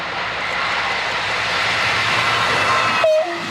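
A train rumbles past with a steady, loud roar, ending with a brief high metallic squeal.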